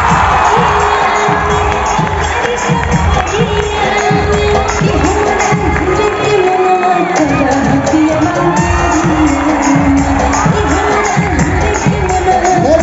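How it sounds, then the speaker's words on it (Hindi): Loud applause and cheering from a big crowd at an outdoor recognition event on Patna's Gandhi Maidan, with shouts and whoops rising over steady noise that holds for many seconds. "जोरदार ताली होना चाहिए शशि भूषण के लिए"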